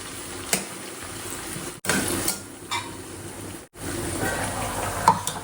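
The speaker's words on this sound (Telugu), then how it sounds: "పుదీనా, కొత్తిమీర ఇవి కూడా ఆయిల్లో చక్కగా ఫ్రై కావాలండి" Mint and coriander frying in oil for chicken curry, a moderate sizzle broken by clinks of a spoon against the pot and brief cuts between sections.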